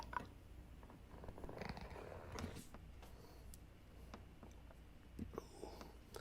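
A house cat purrs softly and steadily close by, a continuous low rumble lasting several seconds with faint ticks and rustles around it.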